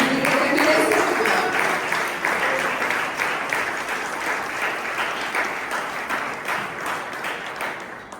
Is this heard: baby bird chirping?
no